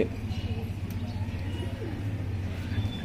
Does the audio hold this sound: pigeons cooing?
yes